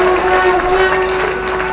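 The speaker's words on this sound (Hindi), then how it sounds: "लगी है तो जरा ताली बजाइए तो मैं मान लूं कि लगी है।" Applause from a crowd at a political rally where Rajnath Singh is speaking: a dense patter of clapping over a sustained tone and a hum of a loudspeaker.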